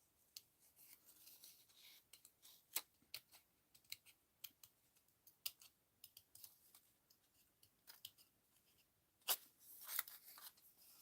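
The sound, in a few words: cutting paper doll with scissors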